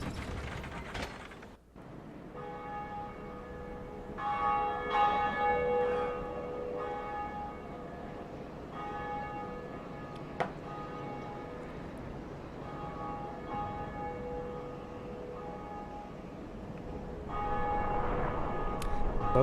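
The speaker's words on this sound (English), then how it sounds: "Both bells have rung." Large bells ring in the Dark Souls video game, sustained metallic tones sounding in overlapping strikes and slowly decaying over a low mechanical rumble, with no talking.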